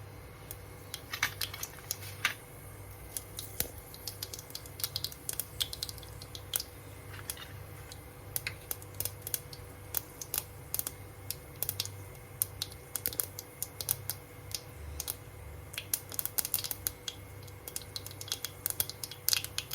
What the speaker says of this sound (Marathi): आता बघा तेल छान तापले, मोहरी घालते.